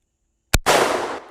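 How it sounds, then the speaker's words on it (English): A .44 Magnum lever action rifle firing 240 grain hollow points at an outdoor range: one sharp, loud report followed by a long, broad rushing burst that slowly fades. "I'm shooting some 240 grain hollow points"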